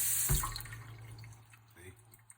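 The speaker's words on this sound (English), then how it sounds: "This will turn your water on." Household water tap switched on with a sharp knock, followed by a steady hiss of running water that fades under a faint background hum, with a brief click near the end.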